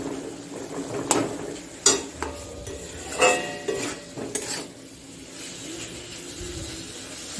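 Spices for a potato and pointed gourd curry fry and get stirred in a pan, with soft sizzling under intermittent scrapes and clinks of a utensil against the pot, no talking.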